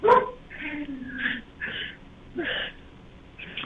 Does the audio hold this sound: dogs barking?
yes